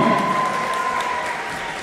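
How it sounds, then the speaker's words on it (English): Applause from an audience of about 200 at a Guinness World Record paper-airplane event, steady and moderately loud throughout with no gaps. "So huge round of applause for yourself for that."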